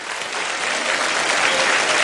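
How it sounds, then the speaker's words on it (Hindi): Audience at the Femina Miss India grand finale breaking into loud applause, a dense, continuous roar of clapping from a large crowd that swells slightly as it goes on. "आप सबके लिए एक बार जोरदार तालियां हो जाएं."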